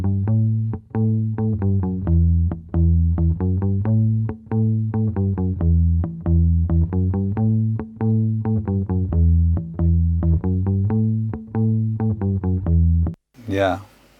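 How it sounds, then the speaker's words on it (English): Compressed bass line from a one-man studio re-recording of a song: a loud, close, steady run of punchy plucked notes repeating in a driving rhythm, cut off abruptly near the end by a short burst of noise. "There you go, that's the bass"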